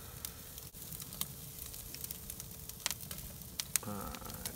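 Dry-aged beef strip loin steaks searing in a pan, a steady low sizzle with occasional sharp crackles and a clink of handling toward the end, fairly quiet.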